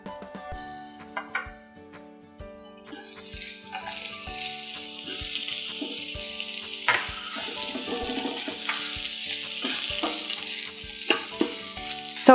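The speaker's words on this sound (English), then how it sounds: "I'm going to saute some garlic and onion at the same time." Garlic and onion sauteing in a tablespoon of oil in a pan, a quiet tonal hum at first, then a steady loud sizzle building up and filling the rest with occasional clinks and stirring.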